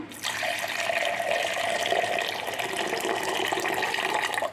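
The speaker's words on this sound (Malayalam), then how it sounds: "ഇനി നമുക്ക് ആവശ്യത്തിന് വെള്ളം കൂടെ ചേർത്ത് കൊടുക്കാം" Water pours steadily into a mixer jar with jaggery, lemon juice and mint for homemade sugarcane juice, a continuous close gushing stream lasting several seconds before stopping.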